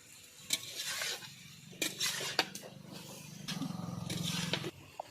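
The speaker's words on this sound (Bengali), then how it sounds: "মা চিকেন রান্না করছে" Chicken cooking in a pan in a home kitchen, with a soft continuous sizzle and scattered scraping stirs and clinks of a utensil against the pan, quiet and close, without talking.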